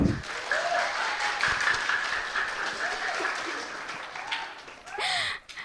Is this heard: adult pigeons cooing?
no